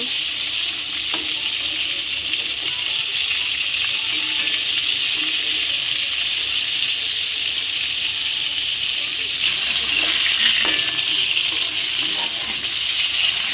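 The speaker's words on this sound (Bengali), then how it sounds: "তো পটলটা আরেকটু ভালো করে ভেজে নেব" Steady, loud sizzling of pointed gourd frying in hot oil, with occasional soft stirring clicks over the continuous hiss.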